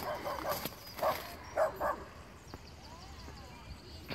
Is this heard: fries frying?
no